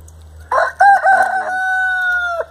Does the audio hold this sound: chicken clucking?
yes